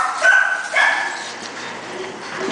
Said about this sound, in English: puppies in a cage